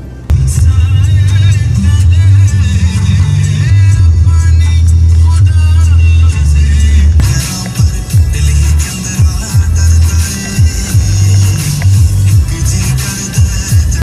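A Mahindra Scorpio-N SUV cruises at about 60 km/h on a highway toward mountain roads, giving a loud, steady engine and road rumble with wind noise throughout and a brief change in tone midway.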